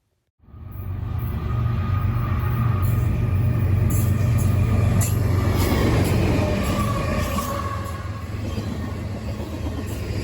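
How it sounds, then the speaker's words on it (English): CSX M566, a manifest freight train running from Chicago to Cleveland, rumbles past in Berea, Ohio, a loud steady roar of rolling cars and low engine drone that builds quickly and holds close throughout, with no voices. "Our first train of the day we captured was CSX M566, a daily manifest out of Bar Yard in Chicago, Illinois to Cleveland, Ohio"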